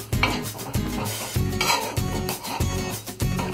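Gajar halwa being stirred in a pot, a spoon scraping and turning the thick grated-carrot mixture in steady repeated strokes with faint sizzling and metal clinks, close and alone.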